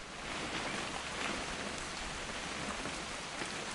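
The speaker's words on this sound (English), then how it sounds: "It's gonna rain the whole weekend" Steady rain falling in the video game What Remains of Edith Finch, a dense, even hiss of drops on surfaces with no breaks, fairly loud and unaccompanied by voices.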